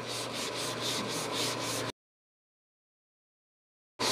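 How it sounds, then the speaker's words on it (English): Sandpaper of 180 grit on a flexible block rubs back and forth over body filler on a car panel, a close, rhythmic scratchy rasp of about seven quick strokes that stops abruptly into silence and then briefly resumes. "I've got a flexible block here so I can, it'll move with the contours of the panel with some 180 grit sandpaper."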